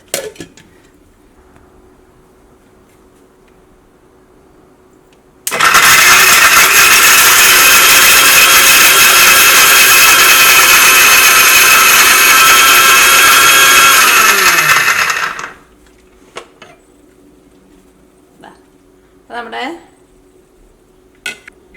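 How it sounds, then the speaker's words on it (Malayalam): A mixer grinder whirs loudly and steadily for about ten seconds grinding cut coconut, then winds down, with quiet room sounds and small clinks before and after. "ആ തേങ്ങ കട്ട് ചെയ്ത് ഞാൻ മിക്സിയിൽ ഇട്ടിട്ടുണ്ട് കേട്ടോ"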